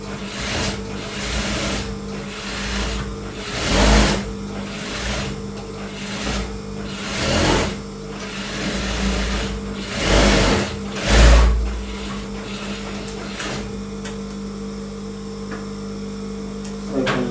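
A sewing machine stitches a belt band onto a pair of pants, running in steady whirring bursts with a constant motor hum and brief louder thumps between runs, close and alone without speech.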